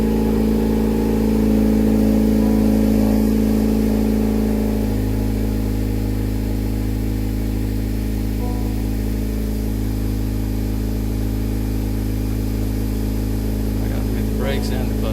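A 2018 Honda Accord 1.5T, just fitted with a new clutch and lightweight flywheel, starts and settles into a steady running idle, a loud continuous engine drone close by that holds throughout with little change.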